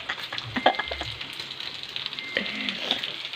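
Pork sisig sizzles steadily in a hot pan, a continuous close frying crackle with faint scraping of a stirring utensil.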